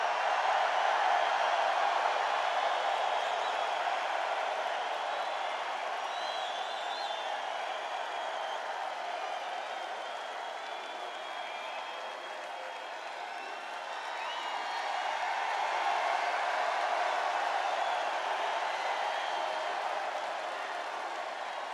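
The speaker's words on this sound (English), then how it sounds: "The people can hear the crowd" Large crowd at a Trump campaign rally in New Hampshire, a broad, distant roar of cheering and clapping that swells, dips and rises again, sustained throughout with no clear speech.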